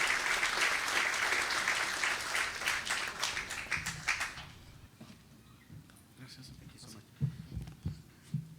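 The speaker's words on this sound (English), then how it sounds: "So let's give her a big round of applause." A civic audience at a State of the City event claps loudly for the county supervisor, dense applause that thins out after about four seconds into scattered claps and murmuring voices.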